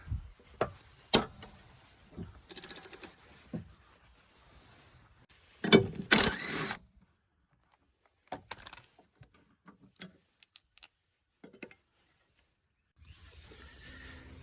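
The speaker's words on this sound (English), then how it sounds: "To crack the blade bolts, put a piece of wood, that, breaker bar." A breaker bar levered against a piece of wood to crack loose the blade bolts on a John Deere 50-inch mower deck, giving scattered metallic clanks and rattles and one loud sharp crack, with quiet gaps between.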